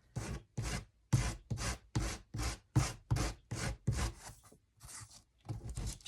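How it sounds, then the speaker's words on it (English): Hand sanding of a small wooden star made from pallet wood, going with the grain: about a dozen rhythmic, close rasping strokes with brief pauses between them, clear and alone. "So I'm going to sand my star lightly."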